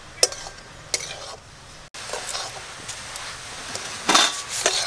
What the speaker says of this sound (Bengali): শুকনো কড়াতেই গাজর নাড়ছি।